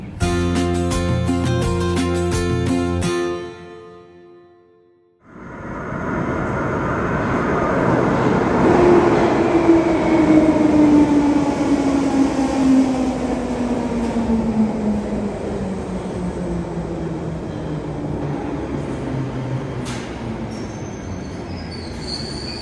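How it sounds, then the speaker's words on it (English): London Underground Bakerloo Line train: a short tonal chime, a moment of near silence, then a loud electric motor whine and squealing wheels sliding down in pitch as the train runs on. "This is a Bakerloo Line train to Elephant and Castle."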